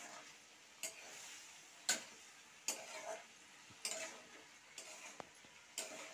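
A spoon stirs cumin and coriander powder into a pan of potatoes for a pointed gourd stem and puti fish chorchori, with a faint sizzle and a string of sharp, evenly spaced scrapes and taps against the pan.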